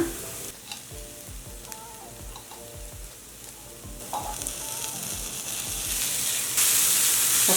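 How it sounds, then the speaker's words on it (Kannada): Chili paste fries with onions and curry leaves in a pan, starting with scattered crackles and stirring clicks, then swelling into a loud, continuous hissing sizzle that grows brighter toward the end, with no voices. "ಮೆಣಸಿನಕಾಯಿ ಸ್ವಲ್ಪ ಫ್ರೈ ಆಗಲಿ"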